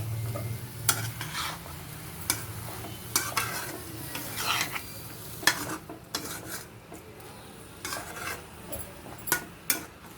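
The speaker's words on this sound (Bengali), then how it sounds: "ভালো করে নাড়াচাড়া করে দিতে হবে" Water lily stems and shrimp in mustard paste being stirred in a sizzling pan, with a utensil scraping and clinking against the metal in irregular strokes over a steady frying hiss.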